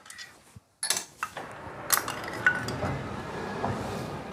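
Metal clanks and clinks come from a Hero HF Deluxe BS6 motorcycle engine as the oil plate beneath the clutch plate is removed: a few sharp close knocks, then lighter scraping and rattling over a dull background.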